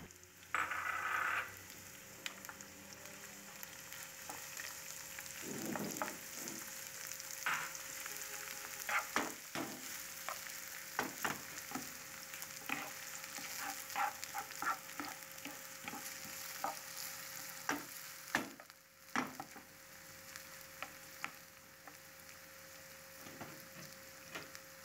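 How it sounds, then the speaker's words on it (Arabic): Minced onion with red and green peppers frying in ghee or oil, stirred now and then: a quiet, steady sizzle with intermittent scraping clicks of a utensil against the pan throughout. "منقلب البصل المفرومة بالسمنة او بالزيت على كيفكم"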